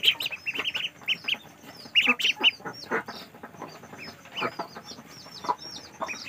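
Fifteen-day-old white Muscovy ducklings on a duck farm in Bargarh, Odisha, give off a stream of high, close peeping chirps in irregular clusters, fairly loud and without talking.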